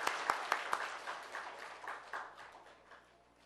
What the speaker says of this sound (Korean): 감사의 박수를 돌리겠습니다.